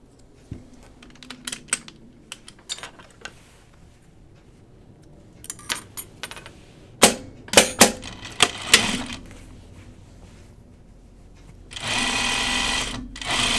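A sewing machine stitches pajama bottoms in short, stop-start bursts of rapid needle clatter, ending in one longer, steady run of stitching.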